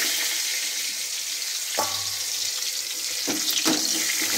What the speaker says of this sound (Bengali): টমেটোটা দিয়ে একটু নেড়ে নিচ্ছি।